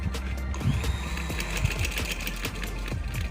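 A sewing machine stitches cloth while a simple shirt is being made, giving a steady close mechanical whirr with faint rhythmic needle ticks throughout.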